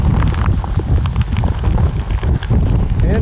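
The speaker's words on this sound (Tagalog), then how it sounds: "Lakas pa ng hangin." Strong wind and heavy rain roar continuously at the Baseco fishing spot, with a loud, dense hiss and rumbling buffeting on the microphone throughout.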